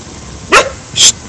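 A dog barks twice in a cemetery at night, two sharp, fairly close barks about half a second apart with quiet between them and no talking.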